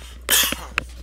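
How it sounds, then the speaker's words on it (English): A single sharp cough bursts out nearby, followed by a couple of short throat-clearing coughs, with quiet room tone around them. "One second, I got a cough."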